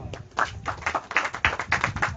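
A church congregation clapping together in quick, uneven bursts, lively hand claps rising and falling over about two seconds, fairly close and clear with no voices.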